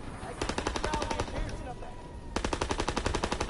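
Rapid automatic gunfire from a video game rattles in two loud bursts with a short gap between, sharp evenly spaced shots close to the listener.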